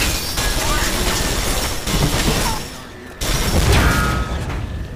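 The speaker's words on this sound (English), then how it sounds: "You got electricity going and all kinds of explosions and enemies." Explosions and gunfire from the shooter game Hard Reset burst in a dense, loud barrage, with one brief dip into quiet before the blasts resume.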